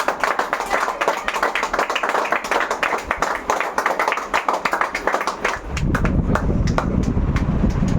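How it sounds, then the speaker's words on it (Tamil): Audience applause at a skill competition grand finale award ceremony, dense continuous clapping from many people that thickens into a louder, fuller roar after about six seconds, with some voices mixed in. "நல்லா கைத்தட்டல் கொடுங்க"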